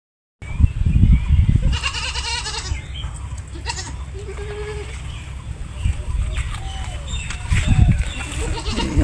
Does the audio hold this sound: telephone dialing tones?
no